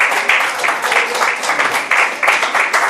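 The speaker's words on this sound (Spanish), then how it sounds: "un aplauso a Jesús." Church congregation clapping loudly together in a sustained, dense burst of applause with rhythmic surges, close and full, no voices over it.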